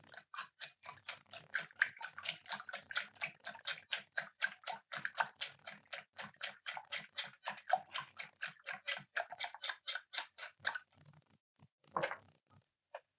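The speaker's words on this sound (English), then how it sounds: "And we're going to whisk the eggs." Eggs are whisked in a bowl: a quick, steady run of light tapping strokes, fairly faint, that stops near the end, followed by one last clink.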